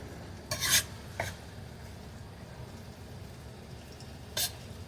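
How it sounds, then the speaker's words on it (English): Pepper steak being stirred in a pan with tomato and pepper, giving a couple of short, soft scraping rasps of a utensil against the pan, with a quiet low sizzle underneath. "we'll just kind of mix this to get some of those flavors of the tomato and pepper up onto our meat"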